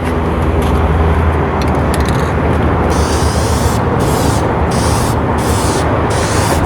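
Spray-painting clear coats onto a faded plastic headlight lens, a steady loud hiss of aerosol or spray gun running continuously throughout with no pauses or talk.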